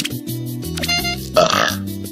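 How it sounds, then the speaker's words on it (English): A person lets out a loud burp close by midway through, with other vocal sounds before and after it. "There's that burp!"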